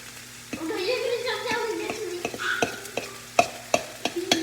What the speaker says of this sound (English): And we'll just mix that in using hand stir.